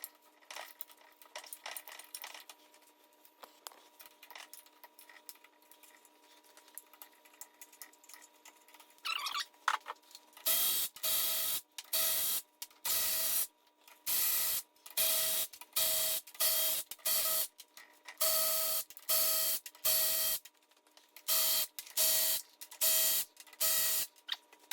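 Ratchet clicks from a 13mm socket breaking loose the transmission pan bolts on an upside-down 2002 Chevrolet Avalanche 4L60E, heard as a steady series of loud, sharp bursts close by after a quieter start.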